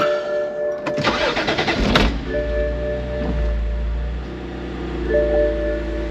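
A BMW N52 inline-six with Valvetronic, just fitted with a new sensor, cranks for about a second in rapid close pulses, catches, then settles into a smooth steady idle with no talking.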